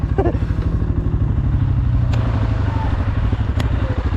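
A CF Moto 500 quad bike engine runs steadily and close while riding, a continuous low rumble with clattering and occasional thuds throughout.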